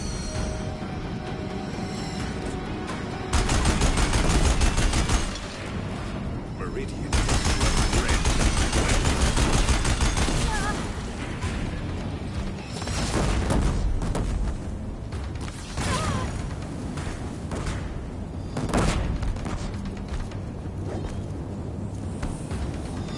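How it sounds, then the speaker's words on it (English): Deathbringer war machines in Horizon Zero Dawn unleash heavy sustained machine-gun fire on a bridge, loud rattling bursts with mechanical creaks and impacts that surge and ease across the stretch. "If the Deathbringers keep firing, this bridge will go."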